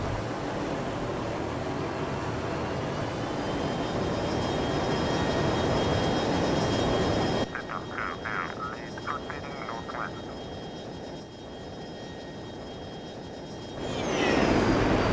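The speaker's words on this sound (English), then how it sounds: "They fly very slow, so it's easy to overshoot these planes if you're trying to follow them." Slow propeller planes in the F-22 Total Air War flight game drone steadily as the engine tone carries through, then the noise drops away and returns near the end, with some brief chirpy tones mid-clip.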